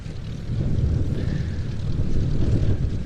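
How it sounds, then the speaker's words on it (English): Twin-engine propeller reconnaissance aircraft flying at the Duxford airshow, a steady droning engine roar that swells slightly as it passes at moderate distance, with no voices over it. "And this aircraft, wearing the registration it now carries again, Golf Alpha Foxtrot Tango Lima, was flown operationally by Cotton"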